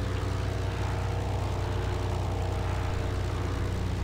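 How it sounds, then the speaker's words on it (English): Propeller fighter planes droning overhead in the WWII shooter Forgotten Hope 2 on the Midway map, a steady low engine hum holding at even loudness throughout, with no other sounds breaking through. "they fly over, and they almost seem to float in comparison to modern planes"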